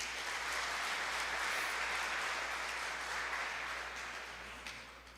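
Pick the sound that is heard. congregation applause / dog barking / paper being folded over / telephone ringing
congregation applause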